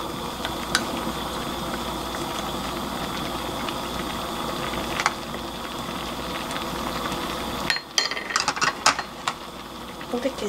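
A small earthenware pot of soybean paste stew with pumpkin leaves boils with a steady bubbling hiss, then a few clinks and clatters of utensils near the end.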